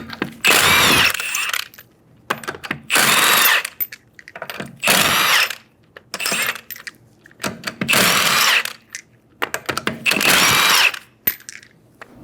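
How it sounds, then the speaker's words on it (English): A power tool with a 21mm socket removes the five lug nuts from a rear wheel of a 2011-2014 Hyundai Sonata. Loud, close bursts of whirring and rattling about a second each repeat six times, with brief quiet gaps and small clicks between. "Using a 21mm socket, remove the 5 lug nuts."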